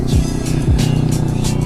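A Honda CBR250RR motorcycle engine revs up twice, each rise sweeping quickly then settling to a steady, loud idle-like drone close by, with no voices.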